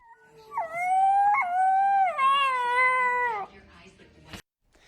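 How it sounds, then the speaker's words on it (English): A seven-week-old gray wolf pup, found abandoned near Condon, Montana, howls in one long rising and wavering high-pitched cry, close and loud, ending in a brief thump. "a 7-week-old gray wolf pup found abandoned on private property near Condon, Montana"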